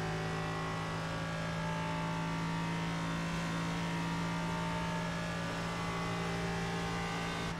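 An iRacing race car holds fourth gear with the throttle gently modulated, its engine a steady, harmonic drone that stays quiet and even throughout.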